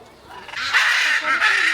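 Ducks at a bird park call loudly and close by, a run of harsh, nasal quacking cries that swells after a quiet start and carries on almost without pause.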